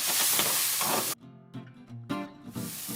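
A hot pan being deglazed gives off a loud hiss of steam that cuts out abruptly, followed by scraping and sputtering bursts as a wooden spoon works the bottom, then the hiss swells again.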